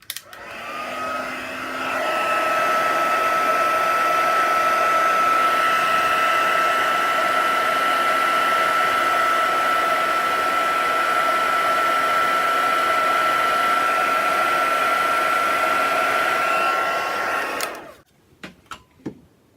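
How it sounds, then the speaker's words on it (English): A heat tool blows hot air over a cardstock Christmas gift box craft, a loud steady whooshing hum lasting about fifteen seconds before switching off, followed by a few light clicks. "I'll get my heat tool again."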